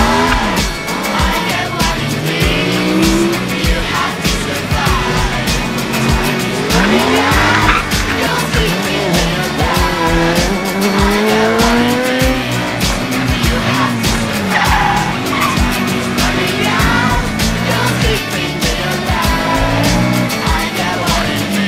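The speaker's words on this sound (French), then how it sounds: "Ça a couiné du pneu, manqué de faire du tête à queue." Racing sidecar tyres squeal and skid under hard throttle, nearly spinning out, with loud continuous engine roar and sliding tyre screech running throughout at close range.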